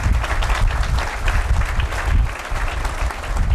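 A crowd applauds during a speech, a continuous dense wash of clapping at a fairly loud, even level with no distinct voices.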